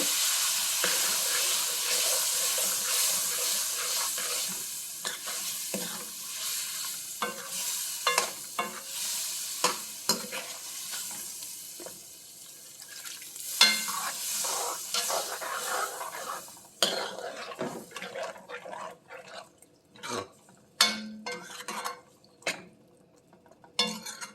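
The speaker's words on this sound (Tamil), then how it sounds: "கத்திரிக்காய் போட்டு கொஞ்சம் தண்ணி ஊற்றி" Brinjal pieces fry in a pan for a peanut kara kuzhambu as water goes in, giving a loud hiss that settles into softer bubbling, with repeated metal spoon scrapes and knocks on the pan, close by and without talk.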